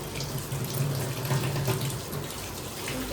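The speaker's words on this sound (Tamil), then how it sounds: "சிங்கில் பாத்திரத்தை வச்சுட்டு மீன் கழுவுறது" Tap water pours steadily into a kitchen sink as fish are washed, a close, continuous rushing splash with faint clatter, no speech.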